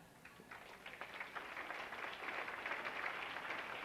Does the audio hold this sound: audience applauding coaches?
yes